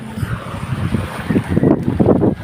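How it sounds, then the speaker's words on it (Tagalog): Steady seaside wind buffets the microphone in a continuous rumbling roar at Bauan's shore, loud and close with gusting swells and no voices. "Wow, hangin po dito."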